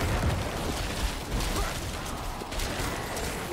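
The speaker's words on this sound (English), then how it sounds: "Do some corpse explosions." Corpse explosions in the video game Diablo IV: a dense, continuous wash of crunchy combat noise with small bursts and pops layered throughout, loud and unbroken, with no talk.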